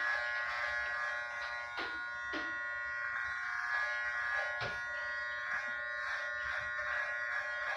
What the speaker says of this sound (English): It's not a bad method of using the Andis T outliners to shave your head bald.